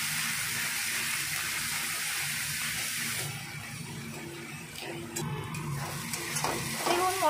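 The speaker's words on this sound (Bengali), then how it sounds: "মশলাটা আবার ভেজে নেবো, ভালো করে কষিয়ে নেবো" Spice paste for rohu fish kalia sizzles and fries in a pan while being stirred, a crackling hiss that eases partway through, followed by scattered clinks of utensils.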